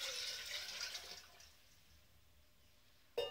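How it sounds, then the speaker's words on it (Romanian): Water pours into an anti-nosema preparation for bees made with essential oils, a soft rushing splash for about a second and a half that then fades to near silence, ending in a brief sharp knock. "acum adăugăm încă 700 de ml de apă"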